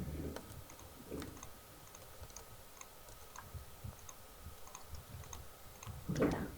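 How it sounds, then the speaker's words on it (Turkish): A computer mouse clicks faintly and sporadically during a game of Minecraft, small sharp ticks scattered through a quiet room hum, with a brief soft rustle near the end. "Mouse'un sesi fazla geliyor mu?"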